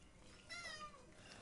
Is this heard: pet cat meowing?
yes